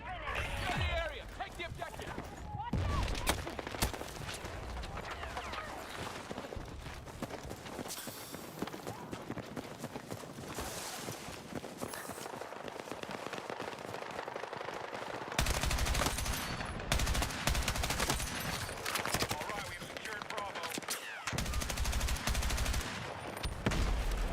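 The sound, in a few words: gunfire from rifle in video game Battlefield 6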